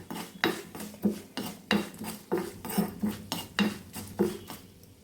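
A spoon scrapes and clatters against a pan while cucumber curry is stirred, a brisk series of about a dozen rhythmic metallic strokes close by with no talk.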